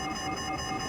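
Several electronic alarms in Shadows of Doubt ring at once, a steady layered tone with many pitches that holds at an even, fairly loud level without a break.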